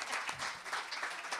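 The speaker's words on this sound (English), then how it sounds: "And we can clap for you too." An audience applauds at a library's 25th anniversary celebration, a dense steady wash of many hands clapping with no talk over it.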